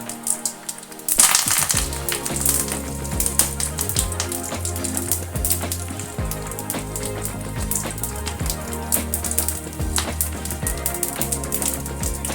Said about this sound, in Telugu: చిటికడు ఇంగువ వేసుకొని కొద్దిగా వేగనివ్వాలి